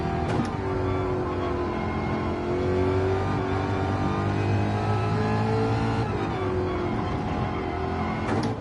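Ford Mustang engine in a racing video game, revving steadily and continuously with rising and falling pitch as gears shift, loud and close with no talk over it.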